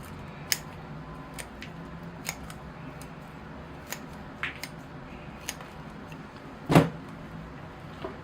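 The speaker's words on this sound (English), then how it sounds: "So these roots can get cut off here." Pruning cuts through apple bonsai tree roots during repotting: soft, scattered snips spaced a second or so apart, then one louder, closer crunching cut near the end, over a steady low background hum.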